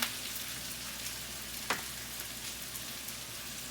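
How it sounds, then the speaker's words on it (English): Chopped red pepper, mushrooms, broccoli, garlic and carrots hitting a hot wok for a stir fry, a steady close sizzle and hiss with a sharper crackle burst midway, no talk. "I have that wok nice and hot. So I'm going to throw in the vegetables."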